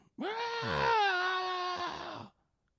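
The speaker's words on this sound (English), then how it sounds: "You hear a scream." A single long, high wavering scream rises sharply, holds for about two seconds, then cuts off into silence, loud and close.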